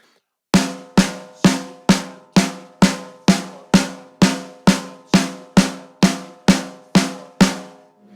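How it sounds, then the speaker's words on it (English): A snare drum struck in an even, steady rhythm, sixteen sharp hits each ringing briefly before the next, loud and close. "So we're just going to put it all on the snare now."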